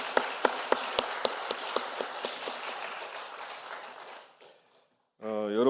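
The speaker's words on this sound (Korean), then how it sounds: "우리 최임 작가에게 우리 축복의 박수 한번" Congregation in a Korean Methodist church applauding for an artist: sharp, regular claps that thin out and fade to silence, then a voice begins speaking.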